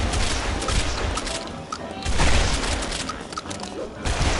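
A shotgun fires amid a zombie video game fight, loud booming blasts coming in quick bursts over constant noisy game action, with players' voices mixed in.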